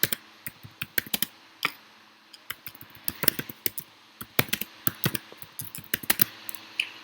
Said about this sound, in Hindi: यहाँ पे हम टाइप कर देते हैं AWS ऑनलाइन क्लास